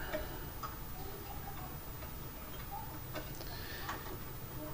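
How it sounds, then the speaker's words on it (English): Screws being removed from a Polaris pool cleaner, a quiet series of small ticking, clicking turns from a screwdriver, close but faint, over a soft background hiss. "So now we'll remove these three screws."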